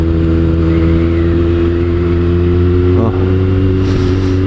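A motorcycle engine drones steadily while riding, a loud, close, continuous hum with a brief dip near the end.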